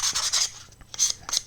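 A sanding stick rubs over a plastic AEC bus scale model in short close rasping strokes, several quick passes, a pause, then two more bursts, with no talk.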